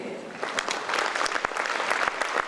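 Concert audience applauding after a song performance, a dense, lively clatter of many hands with a few sharper nearby claps standing out, continuing steadily throughout.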